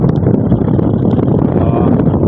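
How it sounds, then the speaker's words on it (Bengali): Strong sea wind at a beach mud house with a thatched straw roof on Mousuni Island, a loud, continuous roar buffeting the microphone throughout with no pauses. "এখানে পাখা চালাতে হবে যা হাওয়া দিচ্ছে"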